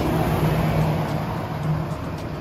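A car passes on a road, a broad steady rush of tyre and engine noise that rises slightly and then eases, with general traffic hum behind it and no talking.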